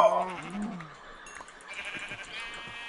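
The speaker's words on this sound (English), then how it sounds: "Oh, look, a sheep." Minecraft sheep bleating in the video game, a wavering nasal bleat up front that fades out, followed by quieter game sounds and clicks.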